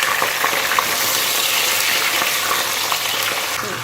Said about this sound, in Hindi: अब चिकन को हम फ्राई करेंगे यहाँ तक कि इसका कलर चेंज हो जाए